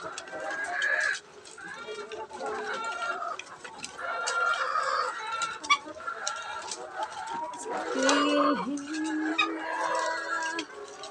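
Hens cluck repeatedly close by while a person speaks over them during egg collecting, with scattered bird calls and soft handling noises in the background.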